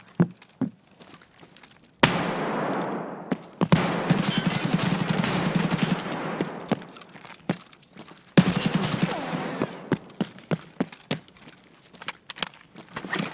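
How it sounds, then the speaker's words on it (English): Full-auto bursts from an AKS-74U rifle in the shooter game Escape From Tarkov: long, loud sustained strings of shots broken by short gaps and a few isolated single reports. "I think controlling the recoil and full auto really separates the boys from the men."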